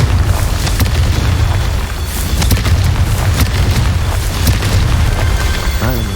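A Confringo spell goes off in a video game, a dense, loud, booming blast with rumbling bursts that continue for several seconds.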